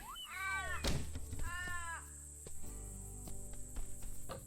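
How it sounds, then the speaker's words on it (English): A warbling, fluting Australian magpie call sounds twice in quick succession in the game Ty the Tasmanian Tiger 2: Bush Rescue, over a steady insect-like chirring bed of ambience with occasional soft thumps. "That bird cry was an Australian magpie"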